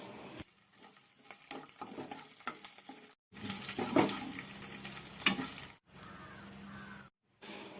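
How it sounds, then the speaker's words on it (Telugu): Spices, chillies, garlic and onion fry for a brinjal curry tempering: close sizzling and spattering with intermittent stirring, cut by short silent gaps, at moderate loudness. "పోపు దినుసులు అన్నీ వేసుకొని మొత్తం అన్నీ బాగా ఫ్రై అయ్యేటట్లు మంచిగా ఫ్రై చేసుకోవాలి."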